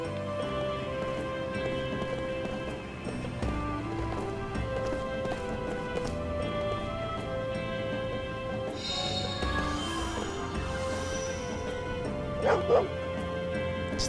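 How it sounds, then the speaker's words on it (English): In the video game Lost Odyssey, a dog barks, yips and whimpers over continuous background game music, with a couple of sharper, louder yelps near the end. "This must be the dog the kid in front of the palace was looking for."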